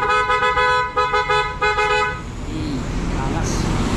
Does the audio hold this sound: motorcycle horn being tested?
yes